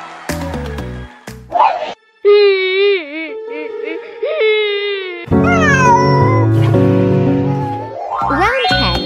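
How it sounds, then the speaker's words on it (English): The Banana Cat meme plays: a cat's drawn-out, wavering crying meows sung over a bouncy electronic backing, loud and up front with several pitched wails rising and falling. "That's Banana Cat."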